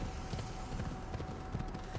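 Horse hooves clip-clop at a steady trot along a road in a video game, a continuous rhythmic patter of hoofbeats at moderate volume with no voices over it.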